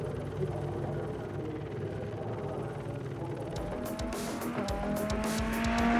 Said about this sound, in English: the cars making their way to the grid